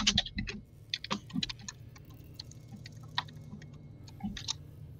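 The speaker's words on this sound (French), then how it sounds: "je mettais Maître Likao en muet parce qu'on entend fort son clavier" Scattered clicky taps in irregular clusters, like keys on a computer keyboard, faint and close, with low background hum and no talking.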